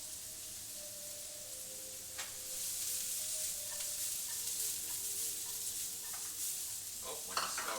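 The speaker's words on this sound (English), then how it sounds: "This pan has been preheating for a little bit, and I'm going to go ahead and put on the onions" Onions sizzle and fry steadily in a preheated pan with olive oil, a soft continuous hiss with occasional light stirring clicks and faint clatter.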